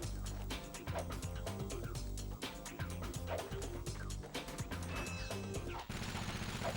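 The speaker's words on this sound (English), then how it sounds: "Okay, bomb glove time." Bomb glove explosions in the Ratchet and Clank video game, with repeated bursts and blasts layered over loud game music and effects throughout, dense and continuous.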